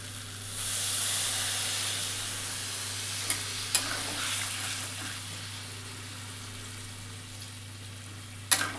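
Water poured into a hot cooking pan sets off a steady, fairly faint sizzling hiss, steaming on for several seconds, with a few soft clicks and knocks partway through and a sharper clatter near the end.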